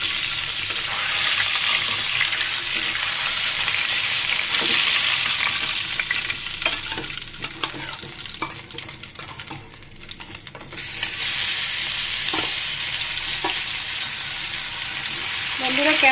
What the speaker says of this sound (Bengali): দেখুন আমি ভেজে নিচ্ছি